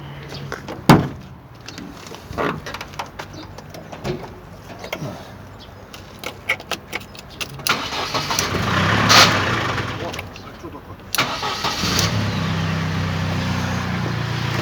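A car with a newly replaced electric pump, steering rod and hoses cranks and settles into a low idle, preceded by clunks and a door, with someone talking nearby.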